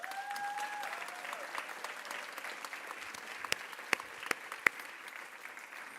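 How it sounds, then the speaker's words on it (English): Applause from an audience at a university lecture honoring Nanaba Duncan at Carleton University, a steady, moderately distant clatter of many hands lasting several seconds with a few sharper nearby claps toward the end. "everybody should give her another round of applause"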